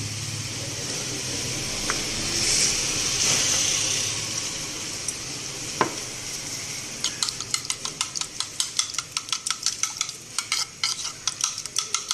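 Cooked vermicelli being stirred into custard in a pot, with steady scraping and sloshing, a few clinks, then a run of quick rhythmic spoon taps against the metal toward the end.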